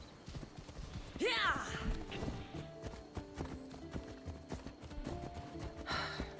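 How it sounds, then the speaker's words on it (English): Horse hooves clip-clop at a riding pace in Assassin's Creed Odyssey, a steady rhythm of light hoof strikes under game music, with a whinny early on and voices talking over much of it. "Prefer riding horses here."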